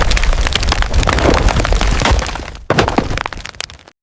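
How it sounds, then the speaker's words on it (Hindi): Loud splintering and cracking of wood, a dense burst of breaking and snapping that cuts off abruptly, then a few more sharp cracks trailing away. "चंद लम्हों में लकड़ी का घोंसला भी टूट गया"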